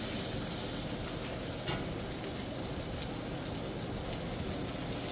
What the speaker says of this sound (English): we're going to stir this around just a little bit